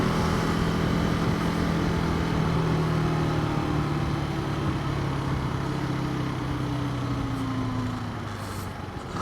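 A new KTM 390 Adventure single-cylinder motorcycle engine runs steadily on the road, a continuous close drone with rising and falling pitch under constant wind rush, easing slightly near the end.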